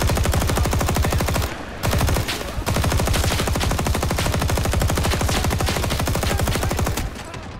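M1919A6 machine gun in Rising Storm 2 fires long, loud, rapid bursts of evenly spaced shots, broken by two short pauses early on and ending with a brief gap near the close.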